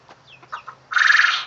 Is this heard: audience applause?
no